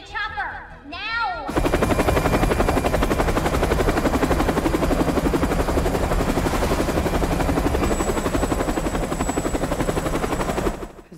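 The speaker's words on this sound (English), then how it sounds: "I need a chopper now." A helicopter flies close by as a loud, steady rotor roar with rapid chopping pulses that fills the whole stretch, starting abruptly after a brief moment of other sound and cutting off at the end.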